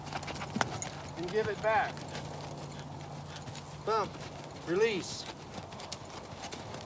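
A haltered horse walks a circle, its hooves clip-clopping steadily under a trainer's ongoing spoken instructions.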